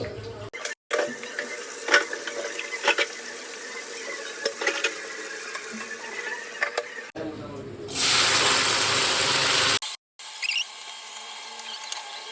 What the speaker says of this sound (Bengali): একটু কুমড়ো ভাজবো।